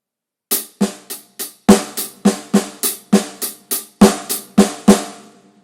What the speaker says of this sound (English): take the right hand notes of the paradiddle and put them either on a ride cymbal or hi-hat, and the left hand notes on the snare drum